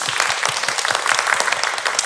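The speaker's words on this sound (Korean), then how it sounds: "우리 원하는 박수 한번 부탁드리자고요" An audience at a healing concert for emotional labor workers applauds, a dense, steady wash of many hands clapping together, loud and close throughout.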